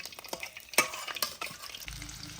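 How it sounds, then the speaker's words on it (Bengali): Garlic and ginger frying in hot oil, crackling softly with quick spatula scrapes and clinks in an uneven rhythm, close but fairly quiet, with no voices. "তো এই যে রসুন আর এই যে আদাগুলো ভেজে নিচ্ছি আমি, এই যে তেলে গরম তুলে নেবো মিক্সিতে।"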